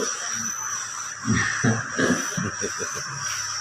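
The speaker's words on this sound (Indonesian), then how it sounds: "Tapi subhanallah burung tak tidur-tidur." A bird caws repeatedly at night in short bursts against a steady background hum, the calls clustered together and fairly close.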